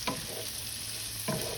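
Onions being stirred in a frying pan over medium-low heat, with a steady soft sizzle throughout and a couple of brief scraping strokes at the start and end.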